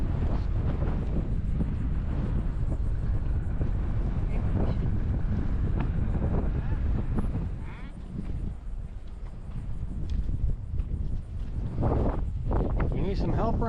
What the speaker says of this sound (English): The wind keeps getting back underneath of it and pulling it back up again.